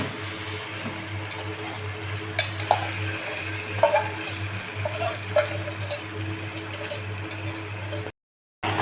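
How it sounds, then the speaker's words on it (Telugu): Marinated fish pieces are gently stirred with a ladle through frying masala in a pan for village-style fish curry, soft scrapes and occasional clinks over a low steady sizzle, ending in a brief silence. "ఫిష్ను మెల్లగా కలుపుకోవాలి"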